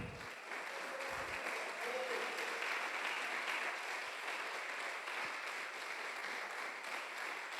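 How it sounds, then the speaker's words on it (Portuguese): Church congregation applauding during a sermon, sustained even clapping from a sizable crowd, loud and continuous throughout with a few brief knocks. "Eu vou pedir para você aplaudir a Jesus para eu beber água."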